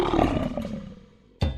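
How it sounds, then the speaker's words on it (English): A lion lets out a deep, rough roar that fades away over about a second, followed by the abrupt start of another loud burst, close and unaccompanied by speech. "The lion's roar is the most famous and can be heard up to 5 miles away"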